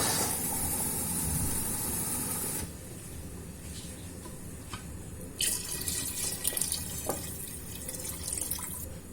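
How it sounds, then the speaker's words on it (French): Tap water runs steadily into a cooking pot to cover meat for a quick chickpea couscous, a broad rushing hiss that dips at one point, then returns with light splashing and clinks near the end. "je vais couvrir ma viande"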